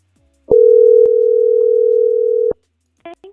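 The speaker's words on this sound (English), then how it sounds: "Let me just try dialing out with it." A telephone line gives a loud, steady dial tone for about two seconds when dialing out, bracketed by clicks. A brief recorded voice follows.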